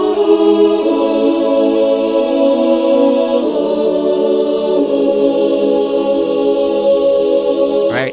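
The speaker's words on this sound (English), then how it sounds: "I used this female choir sound from Alchemy, which is a stock sound in Logic." A synthesized female choir pad from Alchemy, a stock Logic instrument, holds sustained vowel chords that shift several times, loud and continuous with no talking.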